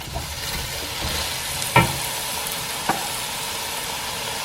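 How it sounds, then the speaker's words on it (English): Pork belly and ginger paste sizzle and crackle steadily while stir-fried in a hot pan, with a couple of brief clinks of a utensil against the pan. "Keep stir frying it for a bit."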